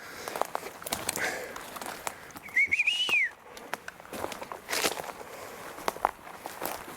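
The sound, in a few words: person whistling outdoors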